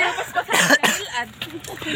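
A few sharp coughs close by, mixed with talking and laughter in the background.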